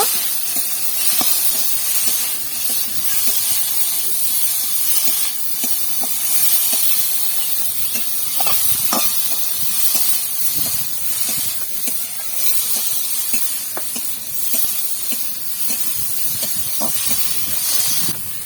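Fish curry with turmeric and salt sizzles in a pan as it is sautéed, a continuous loud hiss with scattered spits and crackles over the whole stretch, close up and without talk.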